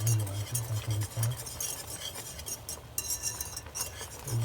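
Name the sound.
stirring boiling chicken yakhni in a pot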